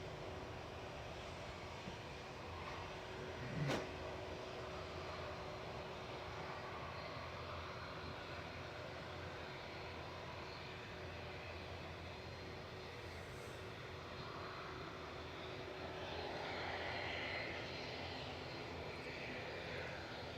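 A Kuwait airliner taxiing at Manchester Airport, a continuous distant engine roar holding steady with a slow swell near the end, heard outdoors and uninterrupted by talk.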